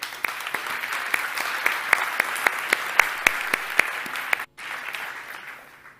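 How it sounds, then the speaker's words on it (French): An audience applauds a volunteer named Elena at a mentalist stage show, steady dense clapping with sharp individual claps standing out, continuing for about four seconds before a brief cut and quieter clapping resuming. "on applaudit bien fort Elena"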